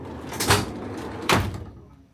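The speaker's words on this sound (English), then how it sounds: "we shut the door" A door shuts twice inside an old heritage railway building, two distinct close thuds about a second apart, the second firmer, with quiet room tone between.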